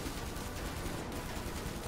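Gunfire in a video game, a dense, continuous burst of rapid shots filling the short stretch, loud and unbroken.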